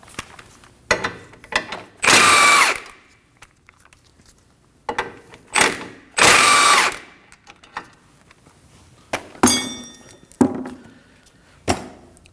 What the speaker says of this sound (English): Now we can go ahead and remove these two 18mm nuts.